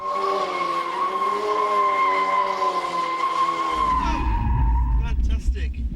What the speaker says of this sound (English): This manoeuvre is called drifting, oversteering to lose traction and slide the car sideways.